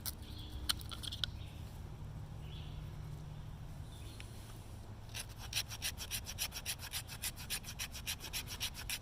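Gerber Principal knife spine scraping an Esee fire steel, producing close, rasping strokes, sporadic at first and then a fast, regular back-and-forth run of scrapes.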